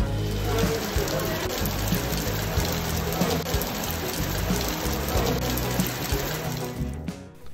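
Torrential rain in Marseille pours steadily at the start of a Kawasaki Z650 RS motorcycle road test, a dense, constant wash of drops on surfaces that stays loud throughout and cuts off near the end.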